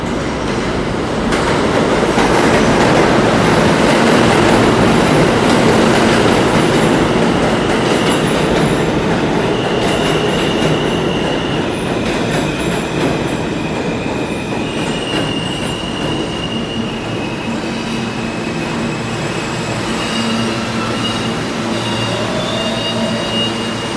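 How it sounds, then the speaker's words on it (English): A New York subway train, an R160 F train, rumbles loudly into Roosevelt Avenue station on the express track, wheels rattling and squealing in high metallic tones as it rolls along and slows. "Queensbound train is now arriving on the express track."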